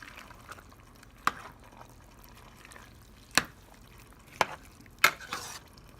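Vegetarian chili gets mixed in a pot: a quiet bed of low bubbling with four or five sharp spoon clinks and scrapes at irregular intervals, with no voices.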